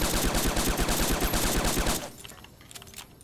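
A Gauss rifle fires in Fallout: New Vegas, loud rapid shots in a tight rhythmic burst that stop abruptly partway through, leaving only faint background sounds.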